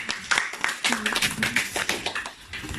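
Hand clapping from a church congregation at a praise and worship service, a steady run of sharp claps, fairly loud, with singing or a leading voice running over them.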